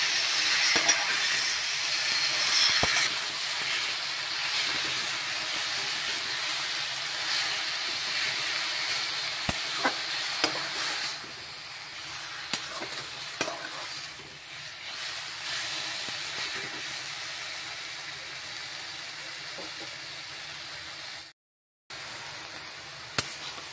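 Malabar spinach (puroi saag) frying in a pan for an Assamese dish, a continuous sizzling hiss that is loudest at first and gradually softens, with occasional sharp clicks from stirring and a brief dropout near the end.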